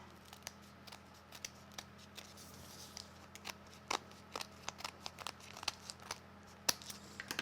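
Scissors trim the paper edge of a die-cut card in a quiet series of crisp snips and rustles that come at irregular intervals, close and soft.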